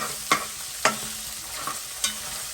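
Salt cod rougail is stirred in a hot pan: four sharp utensil clacks against the pan over a soft, steady sizzle.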